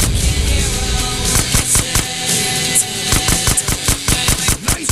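Rapid bursts of automatic gunfire and scattered single shots crackle loudly and continuously during a gate shootout in the video game GTA San Andreas.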